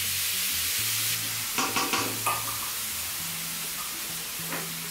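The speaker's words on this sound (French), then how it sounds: "je vais cuire la pâte d'épices, ce qu'on appelle bumbu" Spice paste (bumbu) frying in oil in a wok, a steady bright sizzle with a few louder crackling bursts and stirring scrapes partway through, close and without talk.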